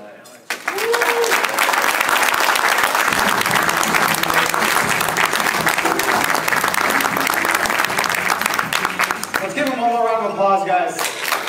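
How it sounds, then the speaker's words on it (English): A conference audience bursts into loud, sustained applause as a keynote speaker is welcomed to the stage, with dense clapping and crowd noise throughout. Cheers rise near the end. "Applause, guys."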